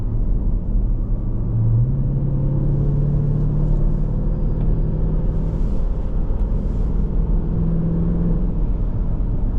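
A 2023 Dodge Durango SRT 392 V8 rumbles steadily while driving, with a deep continuous engine drone and a brief rise in pitch as it pulls, heard alone with no talk.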